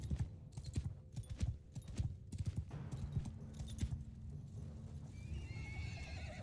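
Horses gallop in the medieval strategy game Bannerlord, a dense, loud run of clip-clopping hooves with neighs and whinnies rising over the battle din, and no voices.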